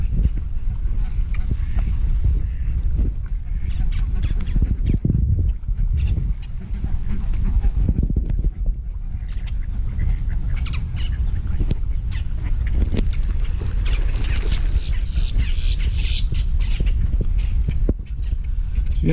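Ducks, geese and black and white swans at a lake being fed bread call in busy overlapping quacks and honks, close and loud, with people talking nearby.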